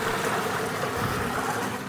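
About 5.5 gallons of water poured onto tomato paste for a big batch of hot sauce base, a steady, close rushing splash that holds even and unbroken throughout.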